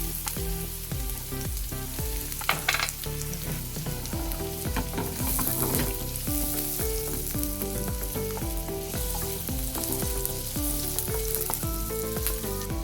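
Onions fry in a pan for chicken menudo with tomatoes, a steady sizzle with occasional stirring clinks, sitting beneath prominent background music that plays throughout.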